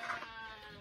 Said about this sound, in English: the sheep know that I'm out here, so you can hear them making a noise while they're waiting for me to go